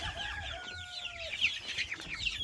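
Chickens in a coop clucking and squawking busily, several birds close by in a continuous overlapping chatter.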